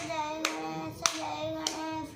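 Three sharp hand claps land roughly every 0.6 seconds, keeping time to a sung Ganesh devotional song whose sustained melody carries on underneath.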